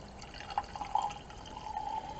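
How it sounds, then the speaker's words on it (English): Red wine from a screw-cap bottle pours into a glass in a soft liquid trickle with small splashy bursts, faint and close, with no talking. "So let's pour a little bit of this wine in my glass."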